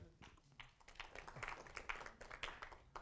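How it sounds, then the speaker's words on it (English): An audience claps as a guest speaker arrives to present his Chesapeake photographs; the applause runs as a steady patter of scattered hand claps for a few seconds, moderately loud and fairly close. "I'm already getting a round of applause."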